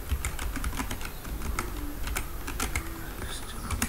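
Rapid computer keyboard typing while entering Python code, a quick run of crisp key clicks with irregular rhythm, close and fairly loud, with faint background tones.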